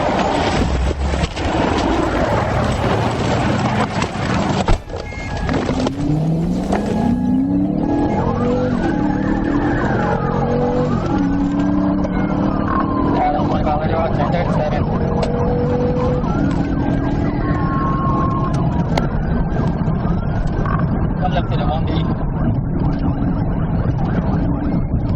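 A police car siren wails in rising and falling sweeps during a high-speed chase, loud and close over constant road and engine roar, with a sharp knock partway through.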